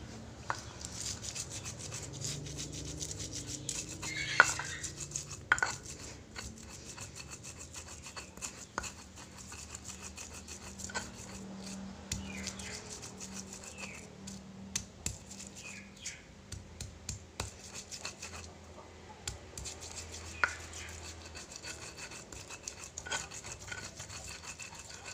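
Chili, kaffir lime leaf, kencur and garlic are ground into a paste for pecel or lotek, a quiet, continuous scraping and rubbing with irregular small knocks, no one speaking.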